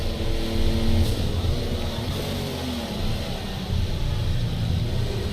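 A turbocharged race car in a racing video game drones loudly and steadily, its engine note rising and falling slightly as it revs through corners.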